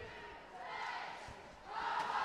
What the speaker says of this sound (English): the Blaze crowd exhorting their team to one last effort